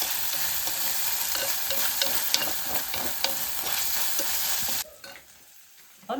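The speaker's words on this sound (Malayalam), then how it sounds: "നന്നായിട്ടൊന്ന് ഇളക്കി നമുക്ക് വഴറ്റിയെടുക്കാം." Chilli masala sizzles loudly in a hot pan for a Kerala fish-head curry while a spoon stirs it in steady scraping strokes, close up. The frying noise drops away abruptly near the end.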